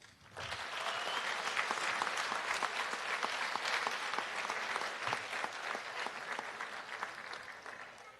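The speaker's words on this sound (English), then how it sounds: "Let's give Mia another round of applause" An audience at a fourth grade elementary school promotion ceremony claps warmly, dense applause rising quickly and holding steady for several seconds before thinning slightly.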